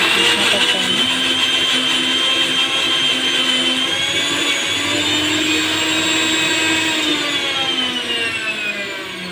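A blender grinds bathua greens with green chilies and garlic loudly and steadily for the whole stretch, a dense whirring roar that barely changes before easing slightly at the end.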